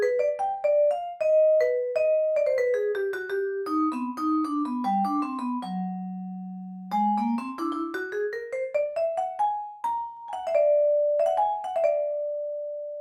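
A sampled vibraphone played through mixed room microphones with enhanced stereo imaging: a melodic run of struck, ringing bar tones, descending, sustaining on a low note, then climbing again, with clear decays and no talk.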